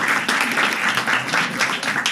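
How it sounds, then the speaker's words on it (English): An audience at a university entrepreneurship practicum's final presentations applauds the top three teams, with steady, moderately loud clapping filling the room and faint voices underneath. "a round of applause for those 3 teams"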